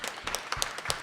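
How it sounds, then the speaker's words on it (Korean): A church congregation starts clapping for a young man home on military leave, with a brief burst of separate, uneven claps from a small group nearby. "우리 고생했다고 박수 한번 해주시죠"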